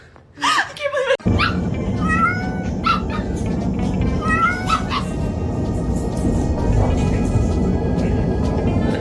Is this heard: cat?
yes